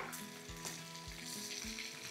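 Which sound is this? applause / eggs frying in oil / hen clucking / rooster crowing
eggs frying in oil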